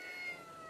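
A cat gives a short, faint meow, a thin drawn-out cry, alone and without talk.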